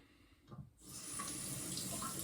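Water runs from a tap for rinsing. After a soft clunk, a steady, gentle stream gushes quietly into the sink.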